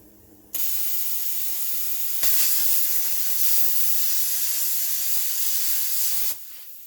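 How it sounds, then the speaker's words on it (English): A cheap Cut 50 plasma cutter blasting away a weld on metal gives a loud, steady roaring hiss that starts abruptly, grows harsher partway through and cuts off cleanly after about six seconds. "you can use that to just blast away the weld that you've made rather than cutting away at the metal"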